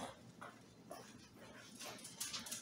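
Small dog giving short yips and whimpering whines in a few bursts, fairly faint and close, with brief soft voices nearby.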